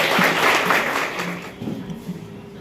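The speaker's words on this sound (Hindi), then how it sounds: "सर का जोरदार तालियों के साथ स्वागत किया जाए।" Loud applause from an audience welcoming a guest speaker at an Indian lecture event, a dense wash of clapping that fades slightly toward the end as a voice begins under it.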